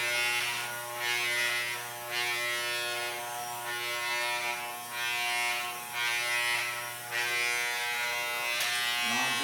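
Electric hair clippers buzz steadily at close range during a home haircut, the hum pulsing slightly as the blade passes through hair, with no talking over it.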